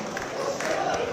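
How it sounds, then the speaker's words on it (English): A crowd at a West Coast Pro wrestling show cheers and applauds for a wrestler after his match, a dense roar of clapping and shouts under a commentator's voice. "Crowd showing their appreciation."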